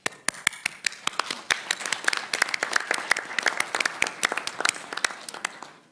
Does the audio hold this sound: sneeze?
no